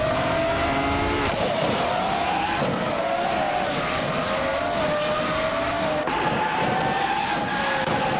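Race cars, led by a 1996 McLaren MP4/11, howl off the start of a video game race, engines screaming loud and close as they rise and shift through gears in a dense, continuous roar.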